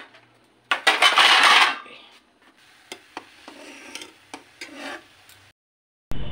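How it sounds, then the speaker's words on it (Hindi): Clean steel utensils being put away in a home kitchen, with a loud burst of metal scraping and clattering early on, then several sharp separate clinks and knocks before a short silence. "बर्तन रख देती हूँ।"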